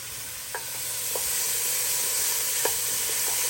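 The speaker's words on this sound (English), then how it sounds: "I have 3 diced yellow onions. They're going in. Listen to that sizzle." Three diced yellow onions sizzling in a hot pan, giving a loud, continuous frying hiss with a few light clicks from stirring.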